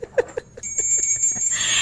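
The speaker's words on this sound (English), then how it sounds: "you can ring the bell" A bell rings clearly on a TV show, a sustained bright tone that hangs on after a few quiet taps and then washes into broadband noise.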